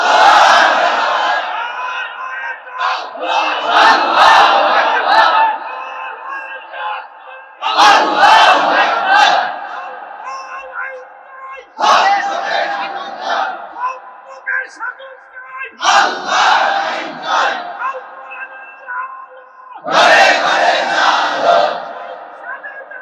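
Large crowd at an Islamic religious sermon gathering chanting slogans in unison, six loud rhythmic bursts separated by short pauses, full-voiced and close.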